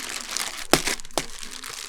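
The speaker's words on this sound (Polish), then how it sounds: "Wymieszaj w woreczku." Close crinkling and squishing of a plastic zip bag being kneaded to mix minced meat, soft rustles with a couple of sharper crunches.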